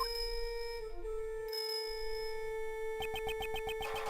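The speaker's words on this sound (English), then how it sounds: "The blind assassin, Sirhan Dogan, He always appears at the sound of a bell." A bell rings as a game sound effect in Ace Attorney Investigations 2, heard as a sustained pure tone. Rapid rhythmic chiming pulses follow near the end, clear and with no voices.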